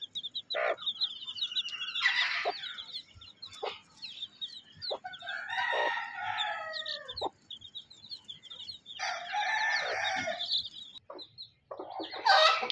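A free-range village hen clucks steadily while newly hatched chicks peep in high, rapid chirps all around, busy and close, with no talking.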